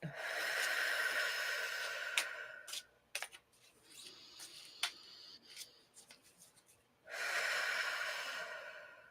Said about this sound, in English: you need to take a really deep breath because they're showing me shallow breathing